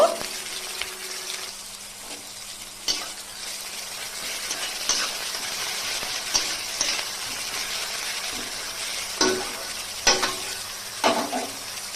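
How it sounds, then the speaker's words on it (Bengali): Chopped onions fry in hot mustard oil, making a dense, steady sizzle close by, dotted with occasional sharp knocks and scrapes of a stirring utensil, with no voices. "সরিষার তেল গরম হয়ে গেল, আমি পেঁয়াজ কুচি দিয়ে দিচ্ছি। ভালো করে আমি ভেজে নেব।"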